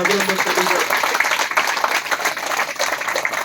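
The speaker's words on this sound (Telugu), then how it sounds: "సింధుజా గారికి మనం గట్టిగా చప్పట్లు" An audience at an event bursts into loud, sustained applause that fills the whole stretch from start to finish.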